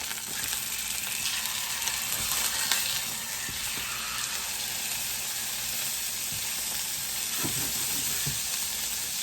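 Apricot sriracha pork chops just flipped in a hot pan give off a steady, loud, continuous sizzle and hiss, with a few faint scrapes and clicks, and no talking.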